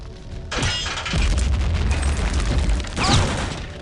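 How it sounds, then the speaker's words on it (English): Booming explosions after a missile blast in the video game Return to Castle Wolfenstein roll in several waves, deep and loud, with sharp crackling bursts. "because the missile exploded, we're gonna have a bunch of explosions here."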